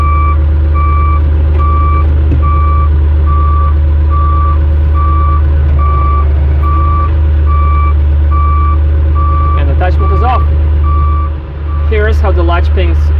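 A JoyT5 JT5WL1200 wheel loader with 1.2-ton lift capacity reversing, its backup alarm beeping in an even repeating pattern over a loud steady engine drone, close by, with brief squeaky mechanical sounds near the end.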